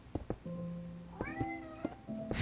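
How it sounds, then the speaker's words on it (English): A house cat meows several times in a row, clear drawn-out tonal cries with a few short chirps between them, close and fairly loud in a quiet room. "I'm so mad I can hear your cat."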